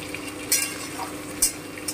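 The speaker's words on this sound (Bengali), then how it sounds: "সবজিটা অনেকটাই ভাজা হয়ে এসছে।" Vegetables for shukto, including papaya and drumsticks, frying in a pan and being stirred, a continuous soft sizzle broken by a few scraping stir strokes, with no speech.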